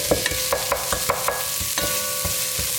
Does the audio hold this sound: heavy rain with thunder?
no